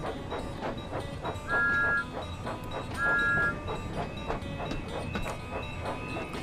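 A train runs on the Thomas's Special Day route in Train Sim World 5 with a steady rhythmic clatter, broken by two short, clear horn or whistle blasts, and no talking.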